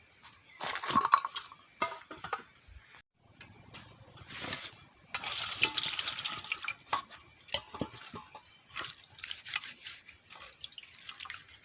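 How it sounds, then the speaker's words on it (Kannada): Raw bananas washed under a running kitchen tap, irregular splashes, drips and trickles close by with short pauses and a louder rush of water in the middle, no talk. "ಈಗ ಇದನ್ನು ನೀರಾಗಿ ಚೆನ್ನಾಗಿ ತೊಳೆಯುವ"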